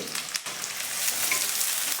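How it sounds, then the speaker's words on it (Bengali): Onions frying in a pan with a little salt while cooking doi chicken: a steady, close, bright sizzle and crackle that holds at an even level throughout, with no voices. "পেঁয়াজটা খুব ভালো করে ভাজবো"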